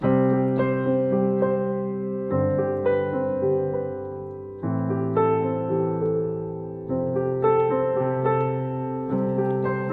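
Piano played with both hands, a steady bass pattern under a repeating melodic figure, notes flowing in continuous phrases with clear rhythmic chunks.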